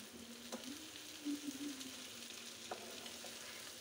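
Bitter gourd stir-frying for karela bhaji gives a quiet, steady sizzle in a pan, with a few soft scrapes and taps from stirring.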